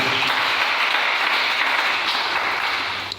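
A church congregation at a tent praise service claps and cheers in acclamation of the Lord, forming a dense, loud, continuous wash of applause that fades slightly at the very end.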